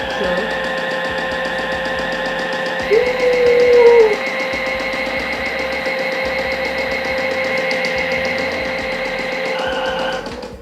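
A toy washing machine's spin cycle drones and rattles steadily at close range, with a brief higher whine partway through.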